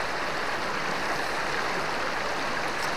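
River near a château, flowing constantly as someone wades across the icy water on a very cold day, a close, broad rushing wash with no voices.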